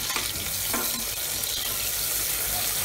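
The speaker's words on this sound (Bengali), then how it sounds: "ভালো করে এবার এটা একটু ভেজে নেব।" Onions frying in a pan for mutton curry, with a loud, dense sizzle and hiss, a few brief scrapes of stirring near the start, close and continuous, with no voices.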